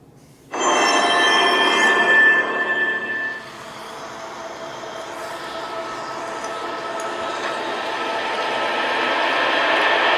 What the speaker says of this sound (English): I'm going to let this God of War trailer play